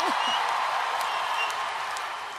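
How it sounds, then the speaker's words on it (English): A crowd applauds loudly, a dense wash of clapping that gradually fades a little toward the end, with a faint voice at the start. "Round of applause for easily the greatest man ever to walk the face of this planet, Nelson Mandela!"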